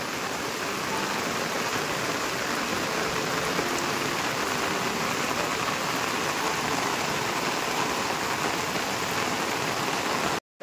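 Heavy rain pours down steadily over farm fields, a dense, continuous roar of drops that stays loud and unbroken until it cuts off abruptly at the very end.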